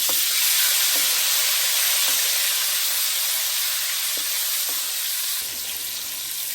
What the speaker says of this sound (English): I'm about to fry it. Put a little scallion, fry in there.